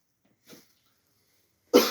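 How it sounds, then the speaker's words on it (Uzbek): A single short cough bursts out loud and close near the end, following a faint throat noise and otherwise silence. "Kechirasizlar, yo'tal kelib qoldi."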